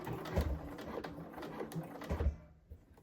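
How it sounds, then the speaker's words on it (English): A sewing machine back stitches the end of a blazer shoulder seam in short mechanical bursts of rapid needle clatter, close up, then stops and falls quiet. "I'm just going to back stitch again at this end"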